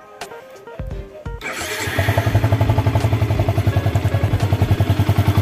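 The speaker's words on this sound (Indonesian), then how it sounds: "Dan kita dengerin mesinnya, karena awalnya kan itu kan mesinnya dia bunyi ada siulannya." Engine of an older Yamaha Vixion motorcycle, warm after a water pump seal, bearing and fan replacement, with a few knocks, then starting into a loud, close, steady pulsing idle with a rapid even beat.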